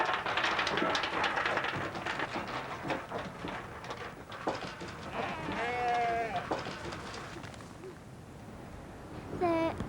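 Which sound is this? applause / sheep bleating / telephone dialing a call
sheep bleating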